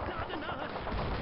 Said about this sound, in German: Dabei noch ein bisschen schießen.